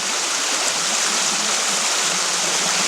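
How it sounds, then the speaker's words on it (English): Natural spring water flows in the Peruvian highlands at about 1,400 meters, a steady, close rushing and splashing that continues unbroken with no voices. "Pure, fresh, natural spring water."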